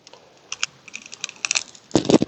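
A pocket knife cuts a bud from a walnut branch for ring budding grafting, a series of small close scraping and clicking cuts, ending in a louder burst of rasping slices.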